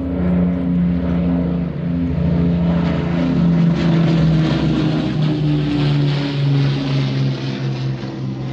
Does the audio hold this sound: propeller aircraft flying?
yes